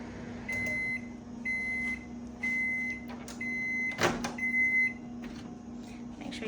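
A microwave oven hums steadily with a low drone, a short whoosh and clunk near the middle, then the hum continues quietly.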